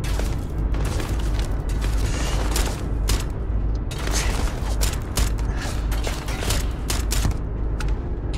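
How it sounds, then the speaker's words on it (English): A dense, rumbling mechanical roar with creaking, grinding textures and scattered bursts as a spaceship lands in Starfield; loud and continuous throughout. "that sounds like a ship is coming in."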